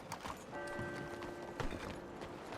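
Horse hooves clip-clop at a steady trotting rhythm in Red Dead Redemption 2, mid-distance and moderately loud over a continuous background bed with a faint tonal hum.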